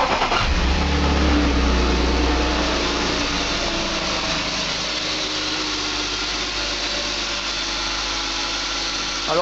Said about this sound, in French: maintenant on va démarrer la voiture pour voir si ça fait du bruit